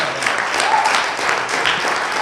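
A church congregation applauds during a worship service, a short burst of clapping with a faint voice briefly heard amid it.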